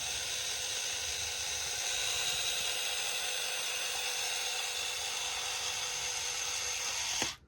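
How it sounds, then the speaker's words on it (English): A toy RC forklift lets out a steady, loud hiss of escaping steam that runs continuously for several seconds, then cuts off abruptly with a small click at the end. "It shoots out steam for everything"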